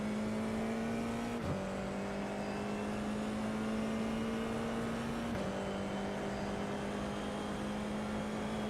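FIA F4 race car engine at Imola in a racing simulator game, a steady high-pitched engine drone held at speed with two quick gear shifts that briefly dip the pitch, with no talking.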